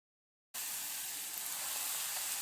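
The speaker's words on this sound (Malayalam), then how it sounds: "നമുക്കിനി ഫ്രൈ ചെയ്തെടുക്കാം." Snack pieces sizzle steadily in hot oil over a low-to-medium flame, a dense, continuous frying hiss that starts abruptly after a moment of silence and holds at an even level throughout, with no voices.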